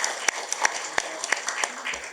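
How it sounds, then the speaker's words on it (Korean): Applause from attendees welcoming a guest at an expanded senior staff meeting, a brief patter of scattered claps with a few sharper hand strikes standing out, moderately close. "큰 박수로 맞아주시기 바랍니다."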